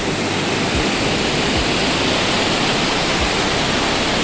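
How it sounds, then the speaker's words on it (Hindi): The Yamuna river rushes below on the trail to Yamunotri in the Himalayas, a loud, dense, continuous roar of fast-flowing water with no voices over it. "नीचे बह रही है यमुना नदी।"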